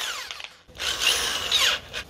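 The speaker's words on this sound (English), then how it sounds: "what we're gonna do is we're gonna get a drill." A corded drill fitted with a buffer pad for polishing a scratched disc whirs in two short bursts separated by a brief pause, loud and close.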